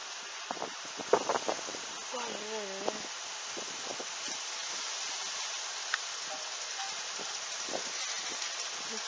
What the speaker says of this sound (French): Donc les averses, hein, le soleil, encore les averses, très fort, rafale de vent.